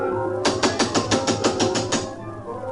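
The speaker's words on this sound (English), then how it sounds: "somebody knocked at the palace gate" Knocking on a palace gate: a quick, even run of about nine loud, hollow knocks, close and alone against a quiet background.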